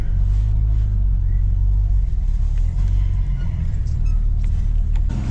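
Engine of a vintage Chevy C10 pickup, needing carburetor work after sitting for 33 years, rumbling loud and steady from inside the cab while driving, with low drone and rattles throughout.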